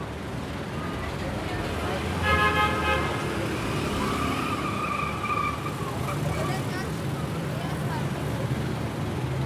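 A car ride through traffic on the way to Burj al-Barajneh refugee camp, with a steady road rumble throughout and a few horn toots partway through, while faint voices murmur in the background.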